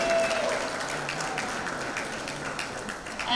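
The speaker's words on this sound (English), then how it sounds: "So big round of applause to all the men as well." Applause from a pageant grand finale audience in honour of the men, a steady dense clatter of many hands that holds through the moment at a fairly even level.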